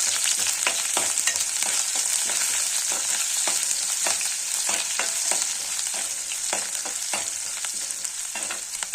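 Garlic and onion fry in hot tempering oil in a pan, a loud, continuous close sizzle broken by frequent crackles and scraping stirs, with no voices.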